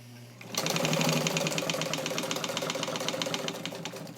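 A restored vintage Italian Necchi BU Mira all-metal sewing machine stitches at speed, a loud, rapid, even mechanical chatter that starts abruptly and runs on steadily, heard up close with no talk.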